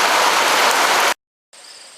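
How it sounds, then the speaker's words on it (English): Steady outdoor rain hisses loudly and broadly near a garden path project, then cuts off abruptly into silence before a fainter, thinner wash of rain resumes. "now it's pointless to try to be out there working in the rain"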